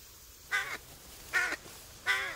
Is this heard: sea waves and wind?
no